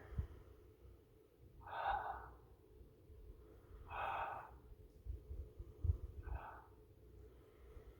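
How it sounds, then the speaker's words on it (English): Three slow, deep breaths during a yoga pose on a mat, each soft airy inhale or exhale swelling and fading at steady intervals over a faint low background, close and quiet with no talking. "Take a few more deep breaths here."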